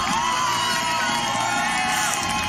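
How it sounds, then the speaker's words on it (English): Crowd at a live Overwatch League playoff match cheers and whoops loudly, a continuous roar of shouting voices with music underneath. "give them another round of applause"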